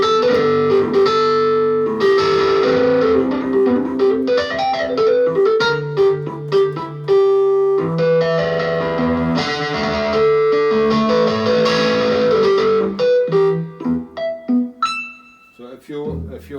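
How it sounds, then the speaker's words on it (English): A Korg SV-2S electric piano played through its drive effect gives gritty, overdriven chords and melodic runs, loud and close, with a few quieter single notes toward the end. "And they have a drive here, so you can make like distort it, like overdrive."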